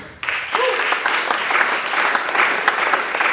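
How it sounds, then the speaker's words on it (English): Audience applause for sponsors at an African young leaders awards event, steady, loud crowd clapping with scattered sharper claps, sustained throughout. "Please make the applause louder"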